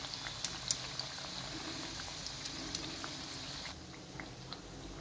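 Vadi frying in hot oil while being stirred around, a soft, steady bubbling crackle with small taps and clicks, close and fairly quiet, and no talking.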